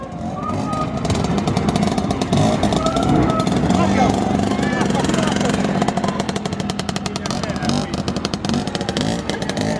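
A motorcycle engine at a gymkhana event in Bitritto, Puglia, revs and putters in choppy bursts as the bike maneuvers, fairly loud, with crowd voices and talking mixed in throughout.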